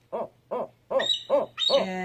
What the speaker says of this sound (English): Barred owls are probably one of the most common of all the owls that we have in West Virginia. And you heard the typical call.